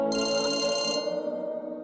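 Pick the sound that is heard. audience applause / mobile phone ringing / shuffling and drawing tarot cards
mobile phone ringing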